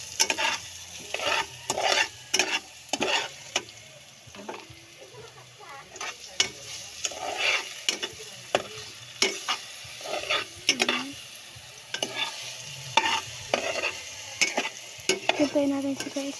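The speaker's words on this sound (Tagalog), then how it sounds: "Haluin natin." Banana slices fry in a pan and are stirred, with a steady sizzle under repeated scraping strokes of a utensil against the pan in an uneven rhythm, close and clear.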